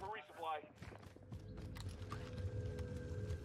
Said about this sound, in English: I just was quiet to let you guys hear those footsteps again